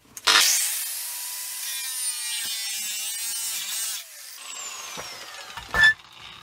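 A power cutting tool bites through the pipe of a brass beer pump, giving a steady, close, high-pitched whine for several seconds that then drops away and ends with a sharp clunk.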